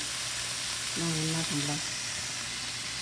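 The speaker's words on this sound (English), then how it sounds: "so now I stir it" Cauliflower sabji sizzles in a frying pan with a steady broadband hiss. A short tonal beep-like sound cuts in near the middle, and no one speaks.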